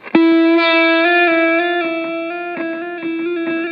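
Electric guitar note played with a Black Mountain slide ring pressed down too hard, a loud close sustained tone with small clicky rearticulations and slight pitch wobble, heard alone.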